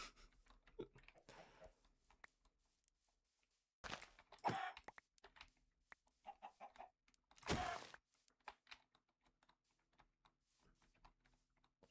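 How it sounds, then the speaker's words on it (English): Chickens in the Minecraft video game cluck faintly in short, scattered bursts, mixed with clicking keyboard typing and a couple of louder broadband thumps. "Where is the chicken? I can hear you."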